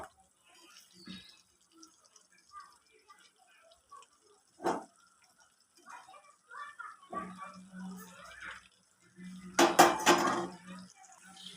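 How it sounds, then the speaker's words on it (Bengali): Pointed gourds (potol) being stir-fried in a pan, with scattered clinks and scrapes of a utensil against the pan, a few sharper knocks, and a busier burst of clatter near the end, with soft talk in places. "এবার এর মধ্যে আমি পটলগুলো দিয়ে ভালোভাবে কষিয়ে নেব।"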